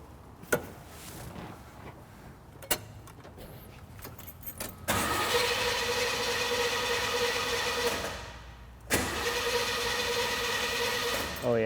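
A barn find car engine on a carburetor cranks with a few sharp clicks, catches and runs roughly for several seconds, briefly cuts out, then restarts and keeps running, close and alone.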